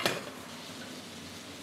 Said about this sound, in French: Et on va faire suer les oignons.